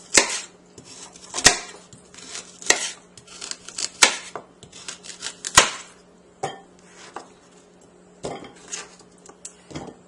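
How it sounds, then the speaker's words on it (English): Knife chopping carrots into 1-inch pieces on a cutting board while making vegetable soup stock, a series of sharp, irregular close-up chops with short pauses between cuts and no talking. "I'm going to cut off the ends of the carrots. And then cut them into 1-inch pieces."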